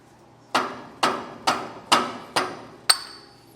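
Six sharp hammer-like metal blows at a steady pace, close and loud, knocking the grease cap off a utility trailer axle hub during a leaf spring replacement, with no talking.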